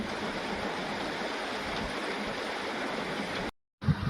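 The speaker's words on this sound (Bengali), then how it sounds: "জল আসছে ওইখান থেকে জল আসছে ওই জানলা দিয়ে" Water pouring in through a window, a steady loud rushing gush close by that runs continuously before cutting out abruptly near the end, followed by a brief knock.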